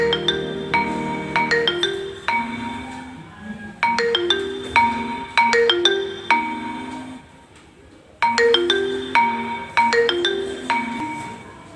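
A phone ringtone plays a repeating melodic pattern of bright electronic tones, pausing briefly before starting again, clear and close.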